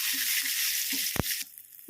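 Mustard seeds, cumin, chana dal and curry leaves sizzle in a spoon of hot oil for a ginger chutney tempering, a steady close hiss with a sharp pop and a brief stir near the end.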